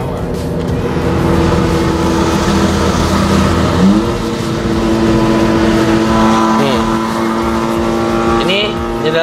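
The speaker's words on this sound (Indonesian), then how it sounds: "Suara gemuruh tuh. Gemuruh knalpot apa?" Inside a Honda Civic Type R fitted with full sound deadening, a steady low exhaust rumble drones throughout, with engine pitch sweeps as it revs, under a voice talking.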